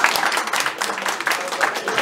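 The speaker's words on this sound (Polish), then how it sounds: "Dajmy im brawa." Audience at a business workshop applauding, a dense steady burst of many hands clapping throughout, fairly loud and close.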